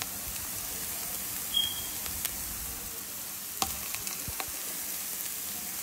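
Chicken frying with tomato paste in a HexClad fry pan gives a soft, low sizzle under a faint hiss, with a few light utensil clicks scattered through, close but quiet.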